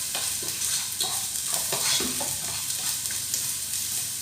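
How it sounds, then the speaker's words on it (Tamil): Ginger and garlic sizzling steadily in a hot pan for a chicken gizzard fry, loud and close, with occasional scraping stirs and no talking. "இஞ்சி பூண்டு நல்லா பக்காவே அதனுடைய பச்சை வாசம் போகிற அளவுக்கு நல்லா வணங்கிடுச்சு"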